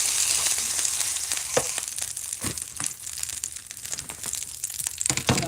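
Thin ribeye steak sizzling in a hot pan, a steady crackling hiss with scattered louder pops and spits throughout, close and continuous with no talking.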